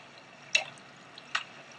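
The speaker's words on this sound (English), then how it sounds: "Water flows into here." Quiet blocky water in Minecraft, heard as two short, soft drip-like splashes about a second apart over a faint steady hiss, with no talking.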